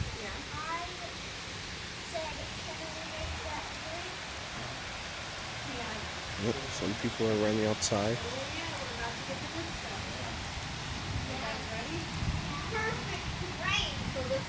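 Rain falls steadily during a windy thunderstorm, a constant hiss under a voice and faint children's voices in the distance.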